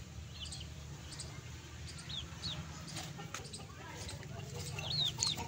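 Pakistani old-bloodline Aseel chickens cluck and chirp softly in a yard, scattered short calls over a low steady hum, with some faint background voices.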